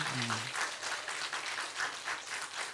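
An audience at a church lecture applauds with dense, pulsing clapping throughout, and a brief voice is heard at the very start.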